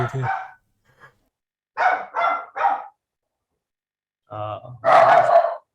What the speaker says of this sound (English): Hey, I don't know why they're barking.